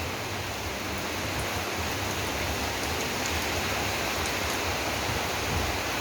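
Steady rain pours down without a break, an even broadband hiss of drops hitting surfaces close by, unchanging in loudness for the whole stretch.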